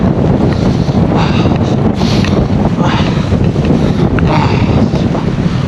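Strong, roaring wind sweeps across a snowy ridge of Bangjangsan in Jeolla-do at about minus 20°C. It buffets the microphone in a loud, continuous rush with no pause, and no voices come through.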